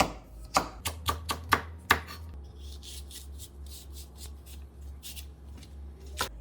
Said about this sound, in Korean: 홍고추도 이렇게 어슷어슷 썰으세요